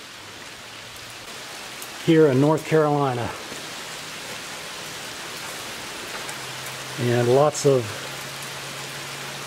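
Steady rain falls outdoors in North Carolina near a pickup truck, a constant hiss running under two short stretches of someone talking.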